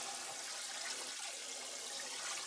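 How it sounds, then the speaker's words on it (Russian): Water being poured slowly off black paddlefish caviar in a bucket, carrying away fine debris; a steady, close, continuous splashing rush with no voices. "Аккуратно сливаем воду с мелким мусором, оставляя на дне черную икру."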